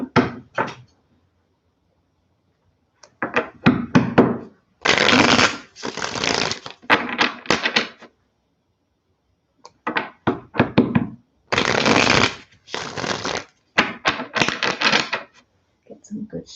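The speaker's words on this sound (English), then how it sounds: "Some good shuffles going." Tarot cards being shuffled by hand in bursts of crisp riffling and slapping, several separate rounds with short pauses between them, close and fairly loud.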